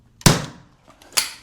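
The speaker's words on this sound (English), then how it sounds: "shooting these powder-actuated nails. That's why we got the hearing protection on, because it's loud." Powder-actuated nail gun firing .22 rounds into roof framing: two sharp, loud cracks about a second apart, with a third starting at the very end.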